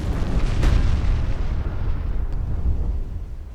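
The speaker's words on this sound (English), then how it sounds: "Torpedoes landing." Torpedo explosions in the naval warfare game Ultimate Admiral Dreadnoughts, with a heavy boom near the start that settles into a long, loud, rumbling roar with no talking.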